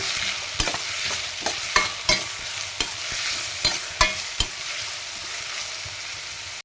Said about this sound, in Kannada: ಒಂದು ಟೊಮೊಟೊನ ಚಿಕ್ಕದಾಗಿ ಕಟ್ ಮಾಡಿ ಹಾಕೊಳ್ಳಿ ಇದು ಕೂಡ ಸ್ವಲ್ಪ ಫ್ರೈ ಮಾಡ್ಕೊಳ್ಳಿ